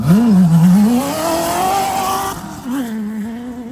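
An off-road race buggy, driven by motorcycle racer Ricky Brabec in a desert race, roars off the start line, its engine note climbing and revving hard, loud and close, then dropping briefly before pulling again.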